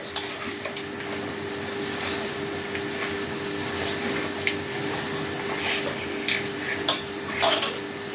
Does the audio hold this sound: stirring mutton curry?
yes